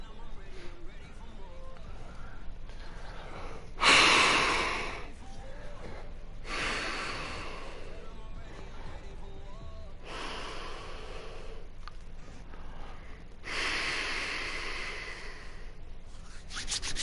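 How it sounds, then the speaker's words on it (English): Snoring comes as a series of slow, breathy rasping snorts, about four drawn-out inhales spaced several seconds apart over a quiet background, the first one loudest. "I think I keep hearing the snore"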